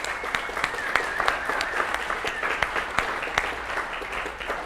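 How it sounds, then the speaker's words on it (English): An audience at a conference talk on administering Office for Mac applauds, a dense, steady patter of many hands clapping with a few sharper individual claps standing out, loud and close, with no talking. "I think they're applauding me for my great HTML and JavaScript skills."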